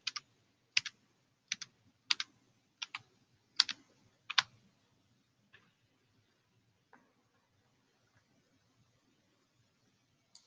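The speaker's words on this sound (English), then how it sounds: "Let's go ahead and type those areas in." A computer keyboard is typed on in a quick burst of about eight crisp clicks, followed by a few scattered faint keystrokes in a quiet room.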